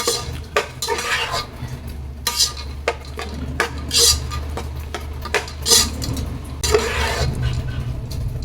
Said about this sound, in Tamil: ரைஸை கொஞ்சம் கொஞ்சமா போட்டு கிளறுங்க